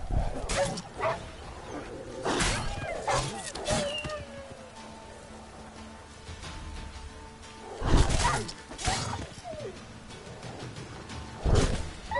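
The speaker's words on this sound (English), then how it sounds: "I was hoping for wolves instead of wild dogs." Wild dogs in the game Witcher 3 barking and yipping in short bursts at several points, fairly close and loud, with quieter stretches of ambient game sound in between.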